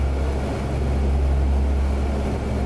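An AC-130 gunship in the DCS flight simulator rolls for takeoff from a very short runway, its propeller engines giving a loud, steady low-pitched drone with no breaks.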